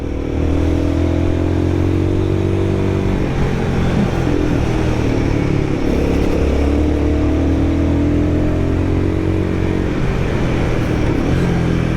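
Royal Enfield Guerrilla 450 motorcycle engine pulling steadily in third gear while climbing a mountain road, a loud, sustained drone with slowly shifting pitch and constant wind rush, with no talking.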